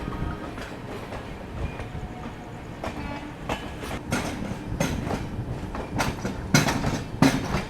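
A long-distance express train runs past near Basin Bridge Junction outside Chennai, a steady rumble of rolling wagons with clickety-clack wheel beats and sharp rail clanks growing louder toward the end.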